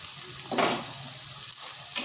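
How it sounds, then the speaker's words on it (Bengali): An egg and eggplant curry fries in a pan with garam masala and is stirred, a soft, steady sizzle with a brief louder scrape of stirring and a few faint clicks. "গরম মশলা দিয়ে এক থেকে দেড় মিনিট একটু ভালোভাবে মিশিয়ে নিচ্ছি"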